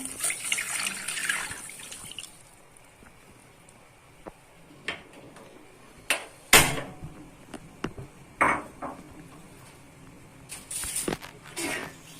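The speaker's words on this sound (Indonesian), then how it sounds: "untuk airnya 400 ml ya" Water measured at 400 ml poured into a container of granulated sugar for a homemade drink, with intermittent splashing pours and clinks of utensils or containers against quieter gaps.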